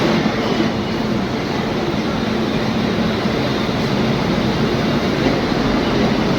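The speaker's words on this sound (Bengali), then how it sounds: "এই ট্রেনটি অ্যাকচুয়ালি শিয়ালদা থেকে শিলচর অব্দি যায়" Inside a Sealdah to Silchar passenger train, a loud steady rumble of rolling wheels and carriage noise runs without a break, close and continuous.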